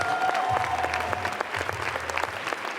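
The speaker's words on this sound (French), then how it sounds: "sous les applaudissements d'une salle debout pour accueillir son film" Sustained applause from a standing audience at the Cannes film festival, a dense wash of clapping that holds loud and steady, with faint crowd murmur beneath.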